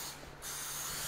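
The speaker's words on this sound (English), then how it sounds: "So I'm going to spray this pan." Cooking spray hisses from a can onto a 9 by 13 baking pan for cornbread dressing, a close, bright burst starting after a short quiet moment and continuing steadily.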